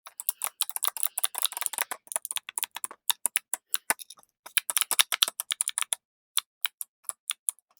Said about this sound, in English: a little clicky fidget toy? This one looks like a banana split with 3 ice creams on it